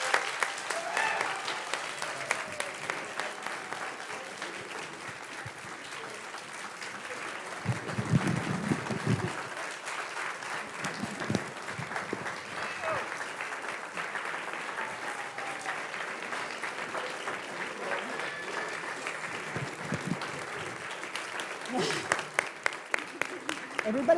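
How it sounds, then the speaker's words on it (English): Scattered clapping from an audience at a siyum celebration runs for over twenty seconds, fairly quiet and uneven, with a voice speaking over it and some crowd chatter in the background. "Everybody clap."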